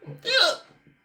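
A single sharp hiccup from a person, a sudden voiced gulp in a quiet setting, followed by faint breathy murmuring.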